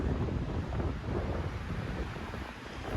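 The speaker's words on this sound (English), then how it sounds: "It's getting windy." Steady wind buffets the microphone outdoors during a shed antler hunt in Arizona, a continuous low roar that swells and eases slightly without pause, with no voices.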